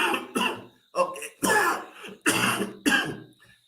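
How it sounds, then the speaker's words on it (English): Repeated bursts of coughing and throat clearing from a cricket show host, several close, loud hacks in quick succession with short pauses between. "I was hoping that I could finish the show before this cough comes back."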